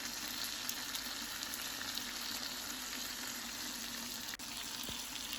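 A sirloin steak frying in a pan, a steady close sizzle and crackle of hot fat that continues without a break, fairly quiet and with no talking.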